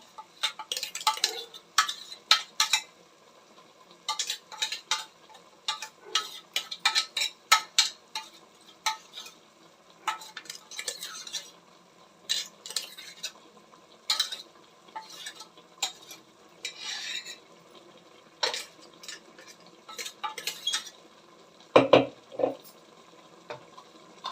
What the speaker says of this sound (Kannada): ಮಿಶ್ರಣನ ನೀವು ಹಾಕಿರೋದನ್ನ ಚೆನ್ನಾಗಿ ಕೈಯಾಡಬೇಕಾಗುತ್ತೆ